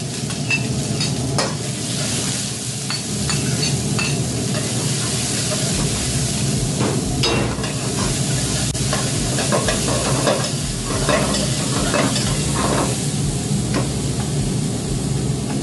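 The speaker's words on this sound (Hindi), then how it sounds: "ये हल्का सा फ्राई हो चुका है प्याज और शिमला मिर्च" Finely chopped onion and capsicum frying in hot oil, a continuous sizzle broken by repeated scraping and stirring strokes of a utensil, close and fairly loud with no talk.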